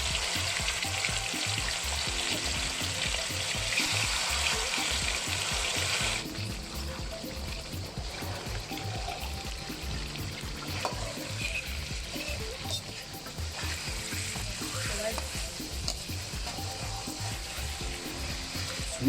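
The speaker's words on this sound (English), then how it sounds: "allow it to be nicely seared on all its edges, then give them a gentle flip" Meat for La Zi Ji, Sichuan chili chicken, sizzles and sears in a frying pan, giving a steady loud crackle throughout that eases slightly partway as the pieces are flipped and separated, with faint clinks of the utensil.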